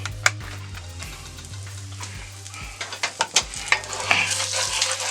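Vegetables and onions frying in plenty of vegetable oil in a skillet, a steady sizzle under a low hum, with scraping stirs and several sharp knocks against the pan toward the end.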